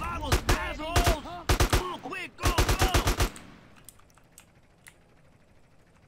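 AK rifle gunfire in GTA San Andreas Definitive Edition, loud close bursts of rapid shots in several volleys, then fading to quieter scattered sounds.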